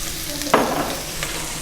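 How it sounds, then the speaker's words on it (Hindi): Green chillies sautéing in a pan for chicken oyster sauce, a steady close sizzle with a brief scrape of stirring near the start and a lighter one later. "इसको इसमें सौते करेंगे थोड़ा सा।"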